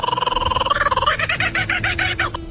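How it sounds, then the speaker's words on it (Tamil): A kookaburra calls with a rapid throaty chuckle that breaks into loud, rhythmic cackling hoots, close and alone. "அடுத்து குக்காபுராங்கிற இந்த பறவை."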